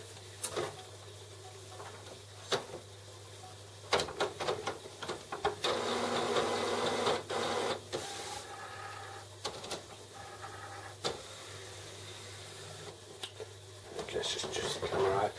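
An Epson WF 7210 inkjet printer whirs and clicks as its print head carriage moves to the ink cartridge replacement position, with bursts of mechanical motor noise, a sustained whirring stretch midway, and a low steady hum underneath.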